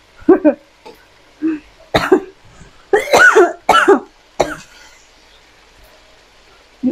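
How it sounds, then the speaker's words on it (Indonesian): A person coughs repeatedly after eating chili-spiced food, in harsh, irregular bursts, close and loud, with brief throat-clearing between coughs and quiet pauses. "Seperti biasa ya, kalau ini habis makan nih ada habis masak ada cabenya, suka batuk-batuk."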